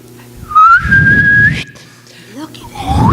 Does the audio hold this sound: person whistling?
yes